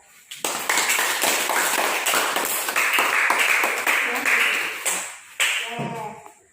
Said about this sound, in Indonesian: kalau paham, tepuk tangan buat temannya